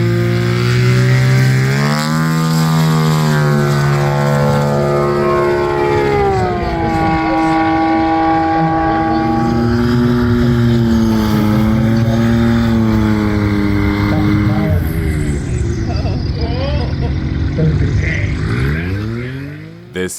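A 300 horsepower propeller plane weighing 1,000 pounds at a short takeoff and landing competition, its engine roaring loud and close with a steadily shifting drone that rises and falls in pitch before fading near the end.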